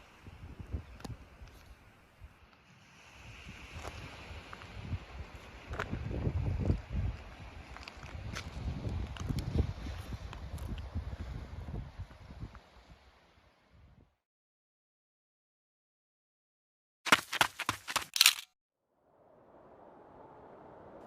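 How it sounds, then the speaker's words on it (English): Strong wind buffets the microphone on a coast path near Penzance, roaring in uneven gusts for about fourteen seconds, then near silence broken by a brief burst of loud rattling and a softer rush at the end. "welcome to a beautifully sunny but very windy Penzance"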